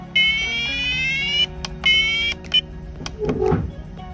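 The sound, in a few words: radon mitigation system alarm going off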